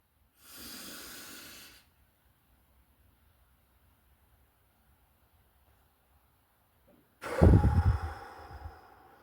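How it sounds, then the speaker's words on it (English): Slow, deep breathing: a long airy inhale of about a second near the start, a quiet pause, then a louder, heavier exhale close to the microphone, with no talking. "So you inhale,"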